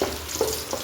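Crushed garlic frying in oil in a pan for tomato masala rice, a short, steady crackling sizzle up close with a couple of light stirring taps.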